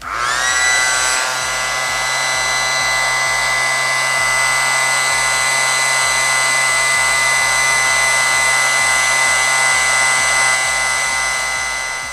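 An electric beard trimmer buzzes loud and close with a steady high whine while trimming a beard underneath the chin, running continuously from start to finish with slight fluttering as it moves through the hair.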